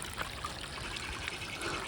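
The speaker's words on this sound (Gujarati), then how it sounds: "પાણી કેવું ધીરું ધીરું આવે પછી જો આ તળાવમાં વયું જાય બધું" Water trickles slowly into a pond after monsoon rain in the green forest at Bhavnath, a steady, soft, continuous dribble with no voices.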